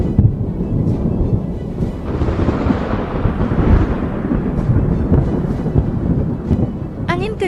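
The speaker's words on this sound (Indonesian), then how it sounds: "lalu disusul dengan suara gemuruh guntur dan petir." Deep rumbling thunder rolls continuously through a storm, loud and sustained with wind and rain noise, building in the middle and easing before a brief bright crackle at the end.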